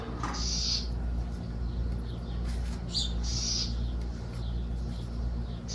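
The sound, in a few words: small birds chirping in a sunny garden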